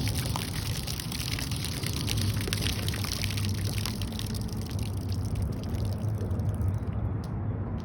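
Water pouring and splashing continuously at close range, a steady rushing flow that holds for several seconds.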